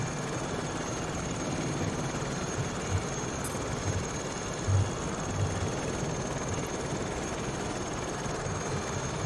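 Engine and rotor drone of an Aérospatiale Lama SA315B helicopter in Microsoft Flight Simulator 2020, a steady, even hum with broad noise that holds unchanged throughout, with no talking.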